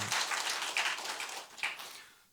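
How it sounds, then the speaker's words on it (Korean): A church congregation applauds together, a dense burst of clapping that swells and fades over a couple of seconds, heard at moderate distance with no voices. "하나님께 영광의 박수."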